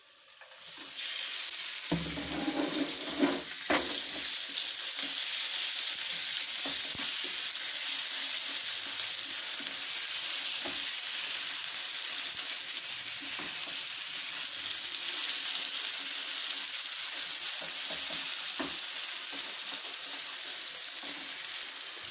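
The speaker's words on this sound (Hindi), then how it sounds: "चिकन को अच्छे तरीके से हम भून लेंगे। ये हमारा अच्छे तरीके से फ्राई हो चुका है।" Boneless chicken with whole cumin fries in a pan, a steady close sizzle after an opening clatter, with occasional stirring knocks throughout and no voices.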